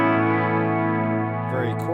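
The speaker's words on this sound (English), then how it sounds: "Very chorusy, very swimmy." A clean electric guitar tone through a Fender Tone Master Pro with a heavy, swimmy chorus effect rings as a sustained, wavering chord, with a brief voice near the end.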